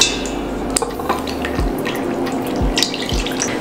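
Water is poured from a measuring cup into cake batter alongside oil, giving a short splashing trickle with a few low gulping plops, close and alone.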